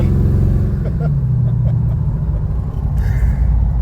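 A loud, throaty V8 engine of a 1965 Chevrolet Malibu SS muscle car revs and rumbles up close, its deep growl rising and settling over the full few seconds.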